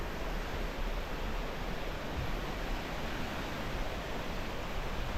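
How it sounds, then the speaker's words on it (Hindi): A river rushes past in a dense, unbroken roar of flowing water that stays loud and close throughout, with no voices over it. "ये सुनो दोस्तों, नदी का शोर फुल 5G स्पीड में चल रहा है।"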